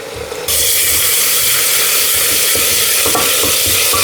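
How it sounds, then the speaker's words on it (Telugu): Ginger and garlic sizzle loudly in hot oil inside a cooker, a dense, steady frying hiss that jumps up suddenly after a quieter start, with occasional stirring scrapes. "సో ఇలా ఫ్రై అయ్యాయి. సో జింజర్ గార్లిక్ చూడొచ్చు."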